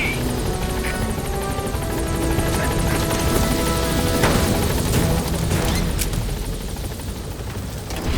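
A helicopter in Metal Gear Solid V arrives at a landing zone, its loud, continuous rotor chop and engine roar filling every moment, with occasional sharp crashes layered on top.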